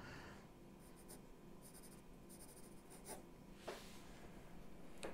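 A 2B pencil signs a drawing on paper, its graphite scratching in short quiet strokes near the right side of the sheet, close and soft with no talking.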